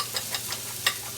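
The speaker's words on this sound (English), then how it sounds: "I'm going to go ahead and mix up our eggs." Eggs are whisked with salt and pepper in a bowl, making soft, quick clicking strokes in a loose rhythm, close by with no talk.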